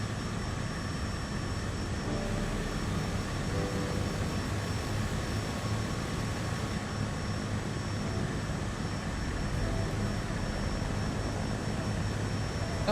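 A Cessna Caravan 208 turboprop from Just Flight, flying a bush trip over Alaska in Microsoft Flight Simulator, gives a steady, even engine drone that stays continuous and close throughout.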